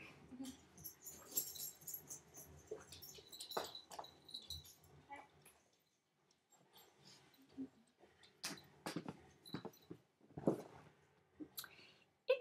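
A dog chews and gnaws noisily at something nearby, with wet smacking, crunching and scattered clicks, pausing briefly before resuming.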